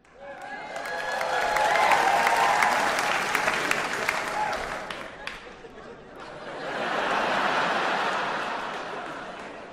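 Audience applause from a comedy crowd swells to a loud peak, fades, then rises again in a second burst, with scattered laughter and chatter mixed in.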